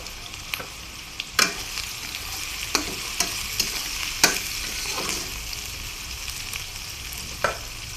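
Onion and raw rice fry in a pan with a constant crackling sizzle, broken by sharp scrapes and knocks from a spoon stirring at irregular intervals, close and clear with no talking.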